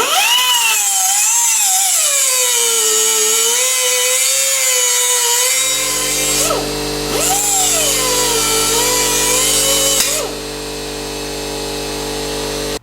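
Power tool grinding into a pressed-on bearing collar on an axle, a loud, close, high whine that wavers as it bites, then settles into a steadier, thinner tone with brief dips and a final drop.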